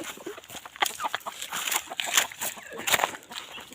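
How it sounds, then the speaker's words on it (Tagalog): A rooster and a hen cluck close by in a rural Philippine setting, with short irregular bursts and bright squawks scattered among rustling outdoor noise. "So mayroon ditong one rooster and one chicken."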